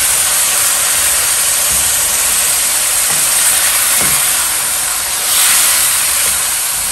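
Masala sizzling steadily as it fries in a kadhai for shorba chicken, a loud, even hiss of oil with a faint scrape of stirring partway through.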